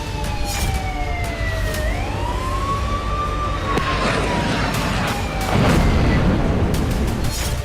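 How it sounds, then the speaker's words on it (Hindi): Air raid warning sirens wailing across Moscow, rising and falling tones sweeping over a dense, rumbling background din, with a louder swell of noise toward the end. "पूरे मॉस्को शहर में खतरे के सायरन गूंजने लगे।"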